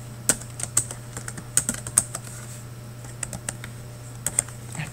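Keystrokes on a computer keyboard, typed during an accounting review: irregular clusters of sharp clicks over about five seconds, fairly quiet and close, with a steady low hum underneath and no talking.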